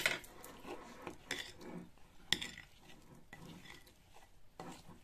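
Cappuccino powder stirred into a mousse for an easy Christmas yule log, with a spoon scraping and tapping against the bowl in irregular, close, quiet strokes and occasional sharper clinks.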